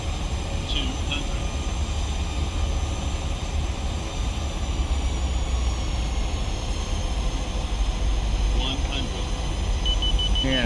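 Jet airliner engines roaring steadily during takeoff in the Prepar3d flight simulator with a PMDG aircraft, a continuous broadband rumble and whine held at constant loudness, with faint electronic chimes briefly over it.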